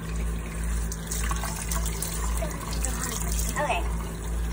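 Kitchen tap runs in a steady, loud stream into the sink while hands are washed under it during meatball preparation, with voices talking over the rushing water.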